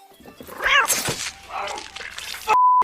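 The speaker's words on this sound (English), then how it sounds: "I told you no cats in the house!" A cat meows in a busy indoor scene with voices and clatter around it, ending with a loud steady electronic tone.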